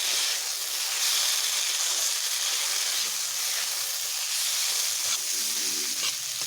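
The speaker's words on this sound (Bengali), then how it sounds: "এইভাবে আমি মশলার সঙ্গে সবগুলোকে একটু ভালোভাবে ভেজে নেব" Bitter gourd fries with ground spice paste and turmeric in a pan, producing a loud, steady, steamy sizzle up close. Faint stirring scrapes sound near the end.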